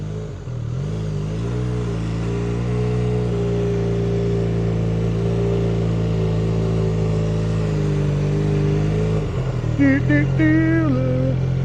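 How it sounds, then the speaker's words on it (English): A small motorcycle engine hums steadily at low speed as it is ridden, a close, continuous drone with a short dip and a brief rev near the end. "These bikes are fun to ride."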